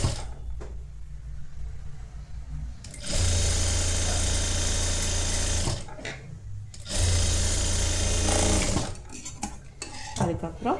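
A sewing machine stitches a blouse in two long, loud, steady runs with brief pauses and light handling clatter between them, close up and with no talk.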